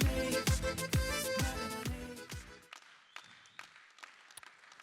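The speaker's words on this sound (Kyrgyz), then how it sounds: "Кол чабуулар болсун" Clapping from a comedy show audience at the 2021 Ak Kalpak Cup, a loud dense burst of applause that thins out and fades to scattered claps.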